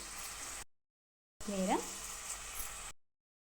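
Chopped tomatoes go into a hot pan for capsicum curry, with turmeric and ginger paste already in it. Quiet, steady sizzling and frying run in two short stretches separated by silence, with a brief stirring scrape.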